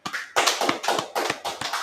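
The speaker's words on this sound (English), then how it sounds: "clap that up" Rhythmic hand clapping at a religious gathering, a run of about six sharp, close claps in a steady beat, with no voices over them.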